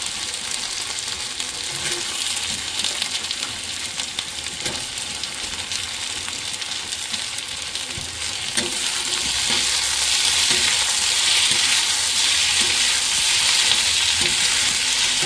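Browned onion and capsicum frying in a pan hiss with a dense, continuous sizzle, punctuated by scraping stirs, the sizzle growing louder and brighter in the second half.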